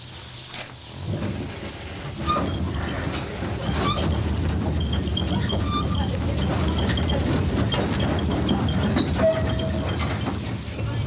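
A tram rumbling along its rails with a continuous low roar, occasional clicks and squeals, heard from inside the car.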